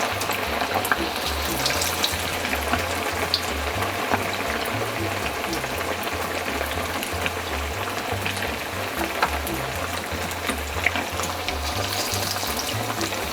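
Fish pieces fry in a pan of hot oil for a Lahori-style fried fish recipe, giving a steady, close, crackling sizzle that continues evenly throughout.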